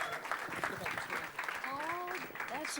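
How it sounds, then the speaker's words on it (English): A crowd at a film media event applauds, steady moderate clapping running throughout beneath people talking nearby. "Round of applause, guys. Come on."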